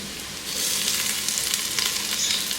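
Grated ginger frying in a pressure cooker pot gives a close, loud, continuous sizzle that swells after a quiet opening moment and carries light crackles.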